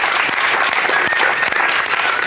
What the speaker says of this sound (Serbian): Aplauz za Kolo prijateljstva